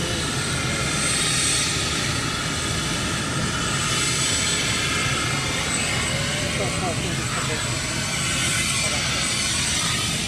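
Vulcan XL426 delta-wing jet bomber engines roar steadily during a taxi run, a loud continuous broadband rumble and whine filling the whole stretch without a break.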